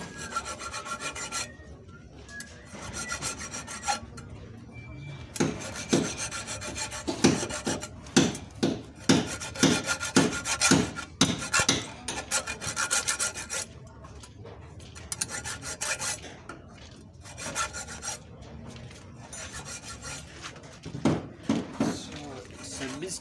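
A truck axle blade is sharpened by hand with a file in a workshop, raspy scraping strokes coming in fast rhythmic bursts with short pauses between runs, close and fairly loud, while someone talks at times.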